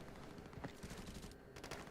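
A burst of rapid gunfire crackles in the distance in the video game Arena Breakout, sustained and rattling over a steady background hum.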